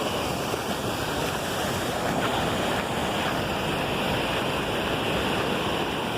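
Sea waves break at the shore in a continuous, even roar of surf with wind noise, close and steady throughout, with no talking.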